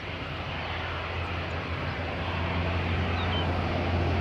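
A jet airliner at Madeira Island Airport starting up, its engine a steady broad roar with a low hum, heard from a distance and growing slightly louder.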